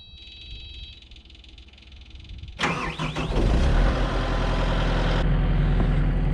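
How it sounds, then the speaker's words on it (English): A skid loader diesel engine on a snowy dairy farm cranks briefly and then roars to life, settling into a loud, steady close idle as it warms up, after a quiet stretch with a faint hum. "I'll get the skid loader warming up"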